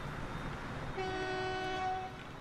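A freight train in the video game Transport Fever sounds a steady horn for about a second over a rumbling rail background, fairly faint and without talk.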